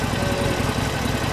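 A 2015 Harley-Davidson Sportster Forty-Eight motorcycle engine idles steadily up close, a low, lumpy rumble with a loping pulse and no voices.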